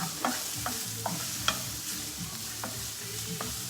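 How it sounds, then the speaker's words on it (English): Pizza toppings saute in a hot pan with a continuous sizzle, punctuated by regular scraping knocks of a utensil stirring them, close and moderately loud. "let me finish sauteing these"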